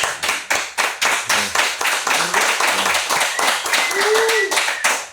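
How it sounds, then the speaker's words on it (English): An audience applauding an interview guest, with a sparse group of hands clapping in distinct rhythmic bursts, fairly close and loud, while people call out and talk over the clapping. "Give him a round of applause"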